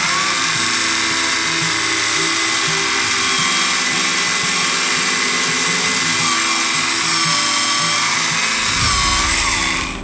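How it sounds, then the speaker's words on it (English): A small battery-operated Tamiya hobby drill whines continuously at high speed drilling holes in a plastic model kit, a steady buzzing motor sound close up that drops off abruptly near the end. "I'm going to go ahead and drill the holes for the wiring"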